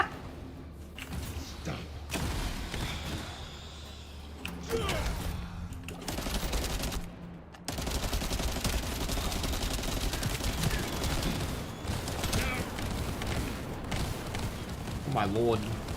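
Constant video game gunfire in a boss fight: dense bursts of rapid automatic shots and thuds run nearly the whole time, loud and continuous, mixed with game effects and a player speaking over them.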